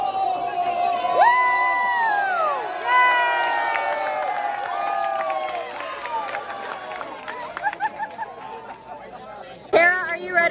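A large, lively crowd at a theme park reopening at night: steady chatter and babble with children's shouts, whoops and cheers rising throughout, with a brief louder burst near the end.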